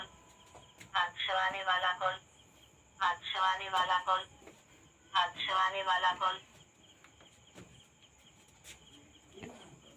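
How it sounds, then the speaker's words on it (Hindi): A phone ringtone plays three distinct bursts of bright, warbling electronic tones separated by short pauses, with a faint background hum in between. "रुकिए दोस्तों, फोन आ रहा है।"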